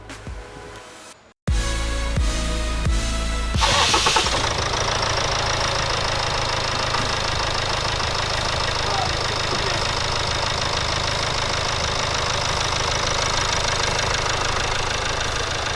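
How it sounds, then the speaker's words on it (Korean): A car engine starts after a brief cranking, then settles into a loud, steady running rumble close by with a slight rhythmic knock. "엔진 소리 죽이네."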